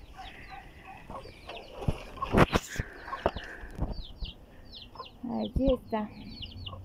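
Chickens in a farm pen give repeated short clucks and chirpy calls, scattered and fairly close, among thumps and rustling, with a brief spoken remark.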